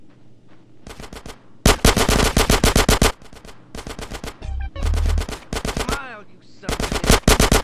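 Automatic gunfire bursts out in repeated loud rapid volleys during a shootout in the video game GTA San Andreas, with brief gaps between bursts and short spoken lines mixed in.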